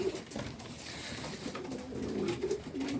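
Homing pigeons coo softly in a loft, low rolling calls repeating near and fairly quiet over faint background noise.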